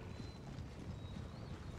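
Horses galloping in the strategy game Empire: Total War, a dense, continuous rumble of hoofbeats from a mass of light cavalry, steady and fairly loud throughout with no voices over it.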